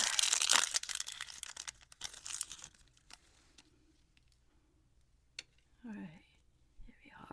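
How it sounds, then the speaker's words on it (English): Potato peeler shaving a bar of soap, soft close crinkly scraping strokes at first, fading to sparse faint shavings and a few clicks, with quiet voice in the background. "See how easy it is with the potato peeler."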